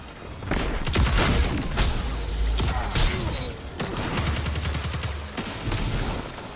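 Dense rapid gunfire from a Destiny 2 Crucible multiplayer match, with bursts of shots, explosions and clattering impacts running loud and continuous throughout.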